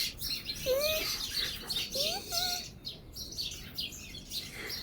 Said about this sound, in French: il y a beaucoup d'oiseaux autour de moi là